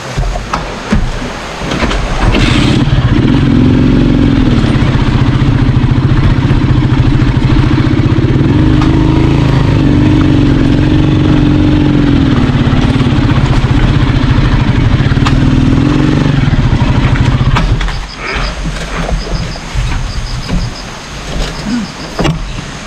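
A motorcycle engine idles and revs loudly and steadily for most of the clip, with a rising and falling hum, then cuts down to quieter rattling and ambient noise near the end.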